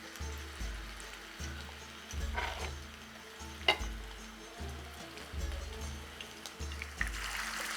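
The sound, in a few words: dough balls dropped into hot oil, frying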